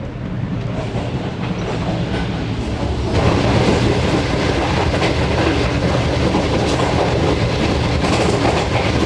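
The Shalimar Express passes its sister train at a station on the Karachi to Lahore line, a loud, continuous rumble of rolling wagons with a faint clickety-clack that swells after a few seconds and holds steady.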